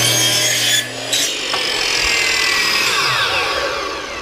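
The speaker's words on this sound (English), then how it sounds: "when you use your coping saw, you want to cut on this edge all the way down." Coping saw cutting through a wooden trim piece for a back-mitered joint: a steady, close rasping scrape that runs almost continuously with one brief pause, no voices.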